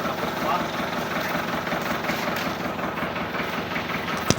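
An old machine engine running in Mindoro, a close, steady chugging idle with a rough rhythmic pulse, unchanged throughout and heard alone.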